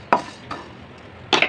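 Coriander seeds dry-roasting in a pan while being stirred, three short scraping strokes of a spoon against the pan with a faint crackle in between, close and otherwise quiet.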